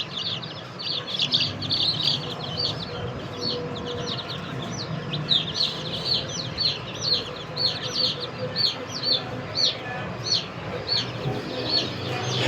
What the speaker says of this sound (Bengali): আর এটা হচ্ছে লেয়ার মুরগির বাচ্চা, এটা হচ্ছে 1 সপ্তাহ বয়স, 7 দিন বয়সের লেয়ার মুরগির বাচ্চা।